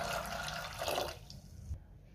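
Water pouring into a pressure cooker holding peas for misal: a steady close splashing gush that thins out and then stops, with no one talking.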